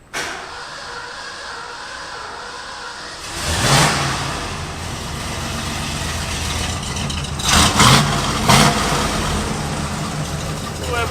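A pickup truck fitted with a swapped 302 boat motor pulls away and accelerates on a test drive, its engine rising from a steady rumble into loud revving surges with a few sharp bursts near the end.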